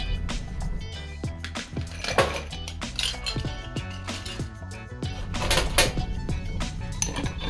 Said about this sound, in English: We're gonna stir the cocktail to ensure that nice silky texture